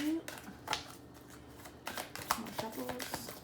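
A deck of tarot cards is shuffled nearby in quick, crisp riffling bursts separated by short pauses, with a voice speaking quietly over them.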